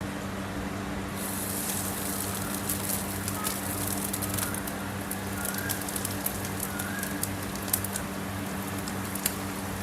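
Fish roe fritters fry in hot mustard oil, giving a steady, close crackling and spitting sizzle with scattered pops that carries on evenly throughout.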